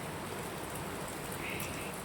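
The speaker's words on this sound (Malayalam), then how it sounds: "ഇവിടെ ഇതാ അപ്പോഴേക്കും നല്ല മഴ പെയ്തു" Heavy rain pours down during an Onam day at home, making a dense, even hiss of drops on surfaces. The sound is steady and uninterrupted, with no voices.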